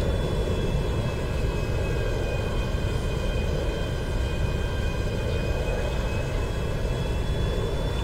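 An airplane in the video game GTA 5 flies toward a runway, its engine a steady, even drone that carries on unbroken with a faint high whine over the top and no talking.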